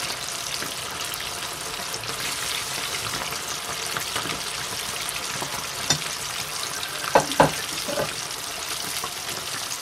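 Chicken submerged in oil deep frying over medium heat, a steady close bubbling sizzle with a few sharper pops and crackles near the end, no voices.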